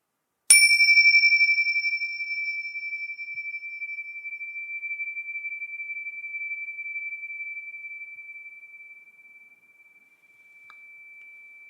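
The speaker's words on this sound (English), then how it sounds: "Tincture bells." A single tincture bell struck once rings out clear and pure, its bright sustained tone hanging alone in silence and slowly fading over about ten seconds.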